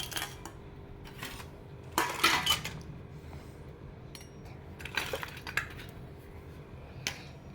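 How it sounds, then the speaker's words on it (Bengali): Small toy kitchen dishes and pots are set out, giving light scattered clinks and clatters in a few quick bursts over a quiet background, with no talk. "বাসনগুলো আমরা ঝটপট করে সাজিয়ে নিই"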